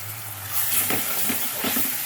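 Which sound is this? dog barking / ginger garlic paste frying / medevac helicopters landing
ginger garlic paste frying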